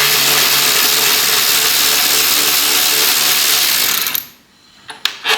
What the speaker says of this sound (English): So if we just get these few nuts out.